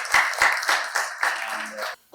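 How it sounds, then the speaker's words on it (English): Audience applause at a Women in Construction industry conference, a steady wash of claps with distinct pulses that stops abruptly near the end. "So round of applause for all of you once again"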